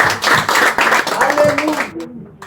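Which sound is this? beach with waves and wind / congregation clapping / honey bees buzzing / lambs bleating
congregation clapping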